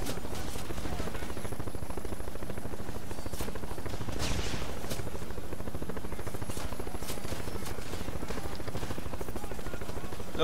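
Helicopter in the video game The Expendables 2: a loud, continuous rotor chop with a rapid, steady beat, overlaid by scattered bursts of gunfire throughout.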